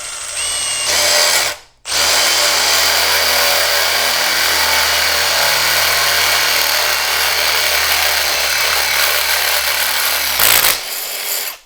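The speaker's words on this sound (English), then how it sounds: "Now I'm gonna use a 3/8 bit to drill the actual size hole." A power drill fitted with a 3/8 bit bores a hole for a motorcycle handlebar switch install, running loud and steady and close by for about ten seconds after a brief start and a pause, with no voices.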